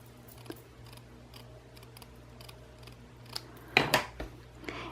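Scissors snip through a stitched seam edge on a handmade card, a few sharp close cuts with the loudest crisp snips near the end over quiet room hum.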